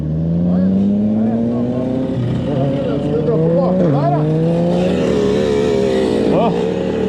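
A KTM EXC 300 two-stroke dirt bike engine revs loud and close, its pitch rising and dipping through repeated throttle blips over a sustained buzzing drone.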